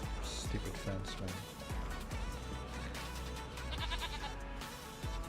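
Goats on top of a bale barn in a Farming Simulator 2 Green Countryside farm give repeated bleats over a busy game background, with low thumps and a soft voice now and then.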